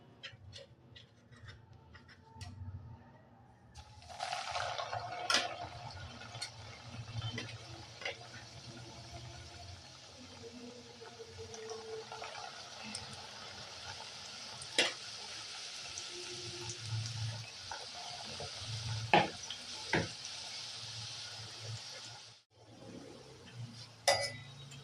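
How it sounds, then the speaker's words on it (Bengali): Salted namkeen cashews frying in refined oil in a wok give a steady, close sizzling hiss that starts after a few quiet seconds, with occasional light clinks, then cuts out briefly near the end. "নমকিন কাজুগুলো, সেগুলো সব ভেজে নেব"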